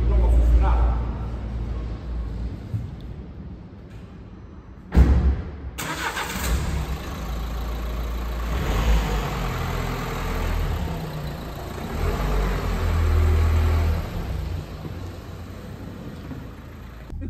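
A Renault Scénic XMod dCi 95 hp diesel car starts up with a short cranking burst, then settles into a steady low idle heard from inside the cabin, with a person talking over the engine.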